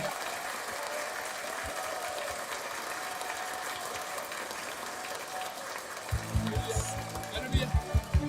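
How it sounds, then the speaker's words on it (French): Church congregation applauding for Jesus, a steady wash of crowd clapping, with a deep rhythmic voice or pulses breaking in near the end. "Let us applaud for Jesus."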